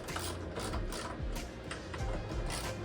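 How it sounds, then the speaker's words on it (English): A ratchet turns bolts back onto a strut tower brace on a 2009 BMW Z4, giving quick repeated clicking strokes in short bursts, close and fairly quiet with no talking. "And put our bolts back on."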